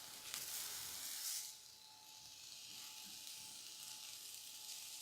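Marinated chicken skewers sizzling as they cook, a steady close hiss of frying with a brief louder burst early on before settling into an even sizzle.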